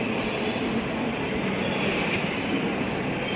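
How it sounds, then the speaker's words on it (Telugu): A train waits at a busy railway station platform on a Chennai to Trivandrum route, a loud continuous rumble and hum with steady broadband noise and faint wheel squeal throughout. "సో స్టేషన్ అయితే ఇది అనమాట"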